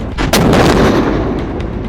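An anti-tank guided missile launches during an army exercise at a super-high-altitude border area in Sikkim, one loud sharp blast followed by a roaring rush that fades and echoes, heard alone without talk.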